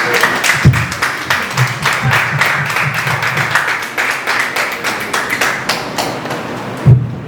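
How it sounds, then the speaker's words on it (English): Audience at a Pre-Mother's Day prayer brunch applauding Elder Claudette Genas, with rhythmic, fairly close clapping and a few sharp thumps, loud and unbroken until it cuts off near the end. "Let's give another round of applause for Elder Claudette Genas."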